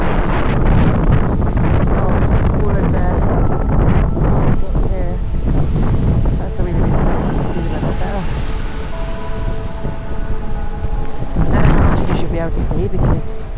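Storm Eowyn wind batters a Scottish town, roaring and buffeting the microphone in loud continuous gusts, with a person talking intermittently beneath it.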